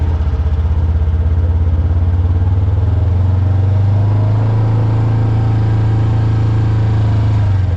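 A 2026 Polaris RZR Trail Ultimate engine drones steadily and loudly up close while driving in low range on grass, its low hum rising slightly in pitch partway through.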